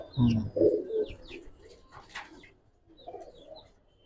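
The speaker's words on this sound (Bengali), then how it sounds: "ডাইরেক্ট থরের কবুতরই দেখা যায়" Pigeons coo close by in a loft where Giribaz and coloured pigeons are sold, with soft repeated throaty coos and a few faint chirps against quiet background sounds.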